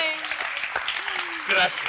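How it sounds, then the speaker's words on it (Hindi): A studio audience on a Hindi television celebrity show applauds in a brief burst, the clapping running under a man's speech. "प्लीज इन तालियों के लिए"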